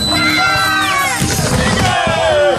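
A loud crowd cheers and whoops continuously, many voices shouting together at close range, at an outdoor inline skating competition in a forest.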